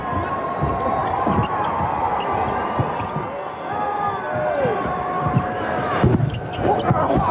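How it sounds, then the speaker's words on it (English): Basketball arena crowd at a 1996 Team USA versus China game, a dense roar of many voices chanting and yelling for Charles Barkley, steady and loud throughout with a swell of cheering near the end. "Crowd yelling, "We want Chuck.""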